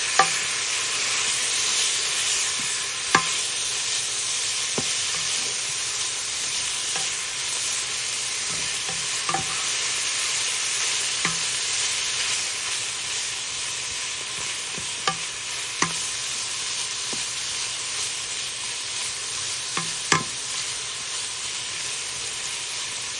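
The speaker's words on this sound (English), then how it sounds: "Mix it all up" Food sizzles steadily in a hot pan while a utensil stirs it, with a continuous close hiss broken by occasional sharp scraping clicks throughout.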